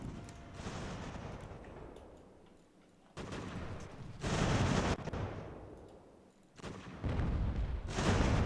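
Artillery cannon fire in the strategy game Ultimate General: American Revolution, a fort battle rendered as repeated heavy booming volleys in sustained loud bursts with rumbling decay between them.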